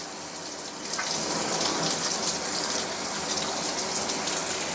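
A rainfall showerhead sprays water at high pressure, producing a dense, hissing rush of droplets that swells after the first second and then stays steady and close.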